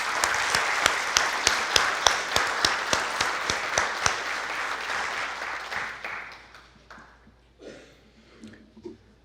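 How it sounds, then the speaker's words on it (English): Audience at a Hall of Fame induction ceremony gives a round of applause: sharp, loud clapping for about six seconds, then fading into scattered claps and faint murmurs at a distance. "we should give Maria, Sarah, and Marge a round of applause so they can hear us in the back"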